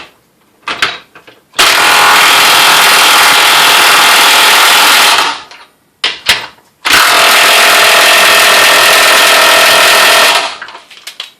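A cordless DeWalt DCF899 impact wrench tightens bolts in two loud, sustained bursts of about four seconds each, with rapid hammering and brief revving between them.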